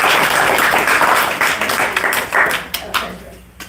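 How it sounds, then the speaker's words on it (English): Audience applause at a bookstore author talk, a dense wash of clapping from a live crowd that thins and fades toward the end, with a few scattered claps trailing off. "So if you can give her a round of applause,"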